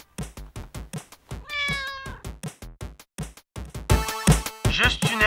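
Cats meow with bright, drawn-out cries in two bursts, one near the middle and a louder, overlapping chorus toward the end, mixed with talking throughout.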